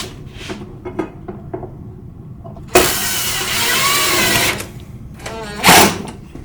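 Power drill driving a number 14 screw into an H-Apex bracket on a simulated shake roof, a loud whirring burst of about two seconds followed by a shorter second burst, preceded by small taps and handling sounds.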